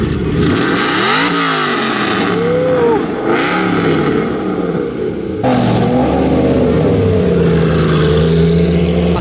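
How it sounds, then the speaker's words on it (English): A race car's engine revs hard at a hill climb start line, a loud, close, rising and falling roar with sharp throttle blips, then a sustained high drone as it pulls away. "this GTA is the best sounding car here"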